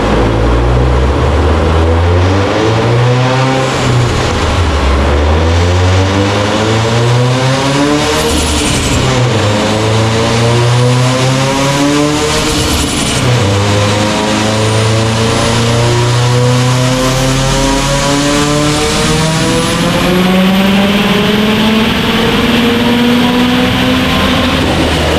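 A loud turbocharged car engine on stock rods revs and accelerates continuously at about 28 pounds of boost, pitch climbing through gear changes with brief dips between shifts, close and dominant throughout.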